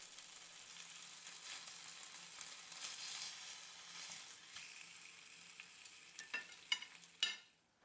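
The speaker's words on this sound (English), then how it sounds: "Heat the oil in a frying pan and fry the fillet for 3 minutes each side over medium heat." Mackerel fillets fry in oil in a frying pan over medium heat, giving a soft, steady sizzle with crackling pops, and a few sharper spatters and clicks near the end.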